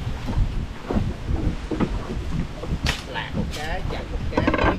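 Strong wind buffets a boat riding on a river with choppy waves, a steady loud rumbling roar of wind across the microphone throughout, with brief voices faintly heard.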